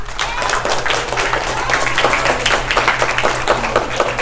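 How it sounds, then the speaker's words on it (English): Classroom of elementary schoolchildren clapping together, a short burst of uneven applause with a low steady hum beneath and some voices mixed in. "Can we give a round of applause?"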